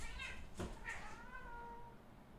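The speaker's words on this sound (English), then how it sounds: "my cats are fighting right now" Domestic cats quarrelling indoors, letting out a few drawn-out, wavering meows and yowls close by, with one sharp cry near the middle and the calls trailing off toward the end.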